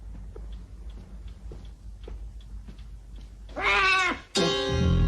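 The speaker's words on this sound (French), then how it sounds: "J'ignorais que vous aviez un chat." A house cat meows twice near the end, loud and close, with a drawn-out harmonic cry followed by a second longer one, after several seconds of quiet ticking and room tone.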